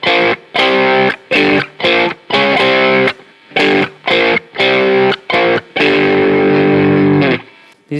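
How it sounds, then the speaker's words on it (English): Heavily distorted electric guitar plays a choppy blues-scale riff of short power chords and notes, loud and close, with brief gaps between phrases. "So I put a distortion."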